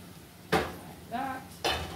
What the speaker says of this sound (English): Stir it up inside there.